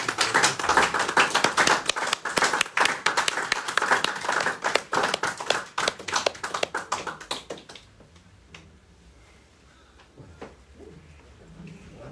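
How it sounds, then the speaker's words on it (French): A church congregation claps at an ordination of deacons and a priest, dense rhythmic applause for about eight seconds that thins to a few scattered claps and quiet room noise. "Je les applaudis."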